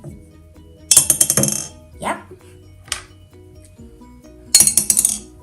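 A marble drops into a glass of vinegar or tonic water, giving bright glassy clinks in two quick rattling bursts, close up, with a few softer knocks and a person speaking briefly between them.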